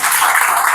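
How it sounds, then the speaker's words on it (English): Audience applause at a communication skills workshop, a dense steady wash of clapping that carries evenly through the whole short moment with no break. "Give him a round of applause"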